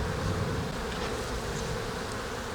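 Honey bees in a backyard hive, opened for brood inspection, give a dense, steady buzzing hum that fills the space close up with no voices.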